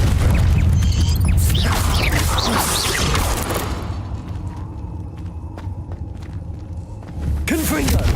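Fiery spell blasts in the Hogwarts Legacy video game, loud booming bursts and crackling impacts in a cave fight amid game music and voices, fading into a quieter rumbling tail before another hit.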